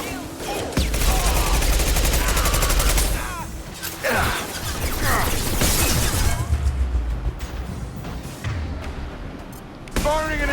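Impact shot gunfire in the video game Mass Effect 2, sounding as dense bursts of shots and explosive impacts through a loud, chaotic battle mix, with a sharp final blast near the end.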